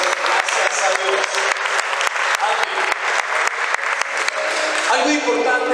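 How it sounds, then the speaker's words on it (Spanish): A church congregation breaks into loud, sustained applause, dense clapping filling the room from start to finish with a few sharper claps standing out near the end. "Dale un aplauso a la palabra bendita de Dios Todopoderoso"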